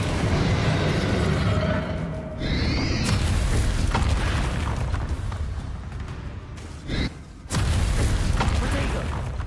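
Confringo blast spells detonate in Hogwarts Legacy gameplay: loud booming bursts with rumbling tails fill the stretch, broken by brief gaps and a couple of whooshing magical sweeps.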